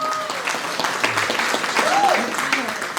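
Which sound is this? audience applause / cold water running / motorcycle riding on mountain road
audience applause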